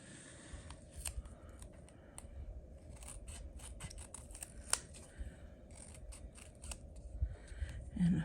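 Scissors snipping paper close up, a scattered series of crisp short cuts with quiet pauses and light handling rustle between them.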